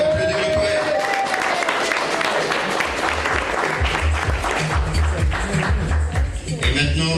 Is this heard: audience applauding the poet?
yes